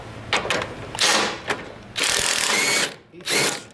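An impact gun loosens a bolt on a Ford Focus during a ball joint and control arm job, firing in several short, loud rattling bursts with brief pauses between them, the longest burst in the middle.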